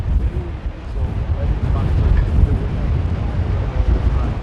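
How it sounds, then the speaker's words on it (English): Strong gusty wind buffets the microphone on a London walk from Canary Wharf towards Greenwich, a continuous low rumbling roar with bursts of louder thumps throughout. "and it is very windy."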